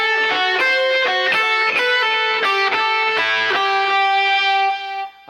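Distorted electric guitar plays a solo phrase in A Dorian from a rock solo, a run of sustained, singing notes with clear attacks, loud and alone with no talking, fading at the end.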